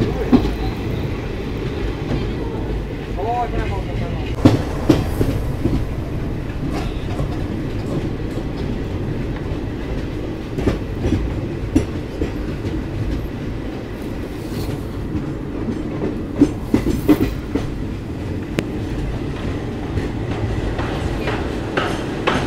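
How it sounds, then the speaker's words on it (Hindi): Nagaland Express hauled by an ALCO WDM3A diesel locomotive entering Simaluguri Junction in Sivasagar, Assam, heard from on board as a continuous rumble with rhythmic wheel clatter and occasional clanks. "हम लोग एंटर कर रहे हैं सिमोलगुड़ी जंक्शन रेलवे स्टेशन पर।"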